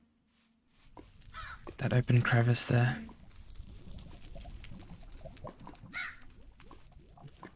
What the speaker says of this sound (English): Crow almost bumped me into the lava.